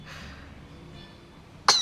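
An infant lets out one quick, close sneeze, an abrupt burst at the very end of an otherwise quiet, faintly humming room.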